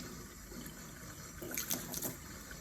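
Running water rinses a makeup brush, a faint steady trickle with a few brief splashy spatters close by.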